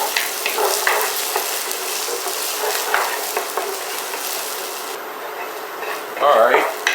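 Red onion sweats in a pan over medium heat, giving a steady close sizzle with scraping stir noises, and a louder burst of stirring near the end.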